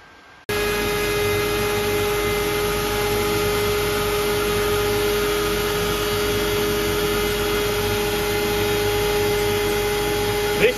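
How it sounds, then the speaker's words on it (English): A CNC router cuts a guitar body in a garage, running with a steady, loud broadband whir and constant tonal hum that starts abruptly and holds evenly throughout, with no voices. "we'll move into the garage and we'll show you the machine running"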